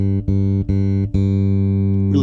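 Sustained bass guitar notes played through a Gallien-Krueger GK 1001RB bass amplifier in a music store, three short plucks followed by a long ringing note, loud and close with a rich low end.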